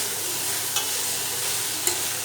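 Meal maker soy chunks roasting in a pan, a constant bright sizzle with two distinct scrapes of a spoon stirring, close and steady, no voices.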